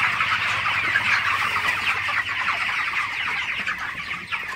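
Broiler chickens on a Bangladeshi poultry farm cluck and chatter continuously, a close, busy flock murmur with overlapping calls throughout.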